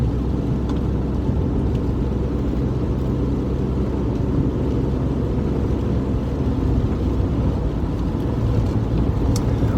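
A car drives steadily along, its engine and road rumble forming a continuous low, loud drone with no talking over it.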